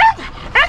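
A dog riding along on a golf cart with an old fisherman gives two short, high yips with a brief whimpering whine between them, loud and close, with no talk.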